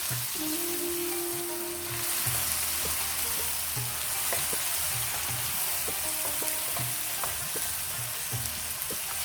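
Chopped tomatoes sizzle and fry in a pan of dhaba-style masala bhindi with onions, with a steady crackle broken by repeated scraping strokes of a spoon stirring the okra mixture.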